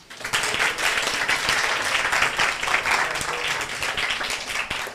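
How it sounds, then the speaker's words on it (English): An audience breaks into steady, enthusiastic applause, many hands clapping together for several seconds before it begins to taper off. "they deserve a beautiful round of applause"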